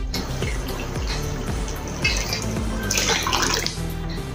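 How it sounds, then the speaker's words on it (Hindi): A little hot water is poured into a pot of rasgulla cooking on a gas stove, a continuous close splashing pour lasting several seconds with no voices. "ये देखिए थोड़ा सा गर्म पानी इसमें डालेंगे"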